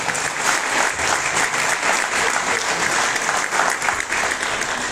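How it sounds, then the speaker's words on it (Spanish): Sustained applause from an outdoor crowd at an intercultural health fair in a park, a steady wash of clapping heard at moderate distance without speech. "Fuerte los aplausos."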